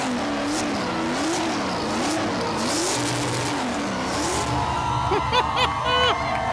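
A McLaren Formula 1 car in Lando Norris livery at a Monster Energy event at Silverstone, its engine note rising and falling loudly throughout, with a brief tyre squeal and higher whine near the end.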